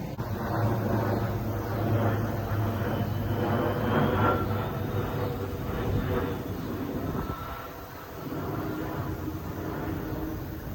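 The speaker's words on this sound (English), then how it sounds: "Yay for airplanes." A broad, steady engine roar of a plane passing overhead above an outdoor swimming pool, loud and continuous with a slight dip near the end, no voices.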